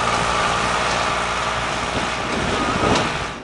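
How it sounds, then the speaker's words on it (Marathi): A tractor engine rumbles steadily in a farm field in Nimbhara village, Akola, during pre-monsoon field preparation, a continuous close drone without speech. "पुन्हा एकदा शेतातून ट्रॅक्टरची घरघर ऐकू येते।"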